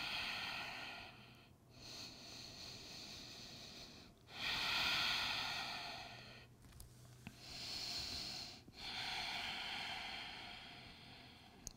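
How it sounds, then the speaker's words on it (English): Slow, deep yoga breathing close to the ear, with long airy inhales and exhales in a steady cycle of about three breaths, the soft rushing hiss swelling and fading alone without talk. "Listen to the sound of your breath."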